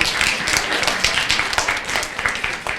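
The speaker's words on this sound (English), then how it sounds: "Give her a nice big round of applause, everyone." An audience at a library open house applauds for a young girl, a full, dense round of clapping that continues evenly throughout.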